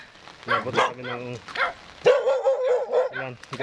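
Several close, loud dog barks in quick bursts, some sharp and some drawn-out and whiny, with a short pause between groups.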